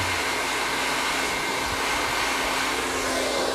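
A hair dryer blows steadily on curly hair, a constant close whooshing roar with a low motor hum that holds unchanged throughout, no voices.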